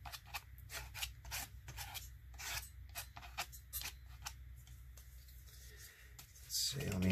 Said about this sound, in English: Just kind of scrape willy-nilly to get random textures.